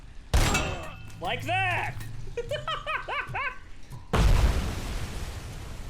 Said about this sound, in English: now I can ricochet shots off things!